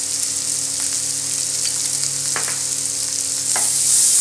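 Spices with salt and ground pepper fry in a pan for fish moli, a steady close sizzle with a few sharp stirring scrapes, growing slightly louder at the end, no speech.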